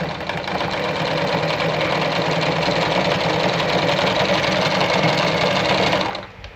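A Jones Brother model 687 sewing machine sews a straight stitch in one continuous, loud, close motor whir. It runs steadily for about six seconds, then stops, and no one talks over it.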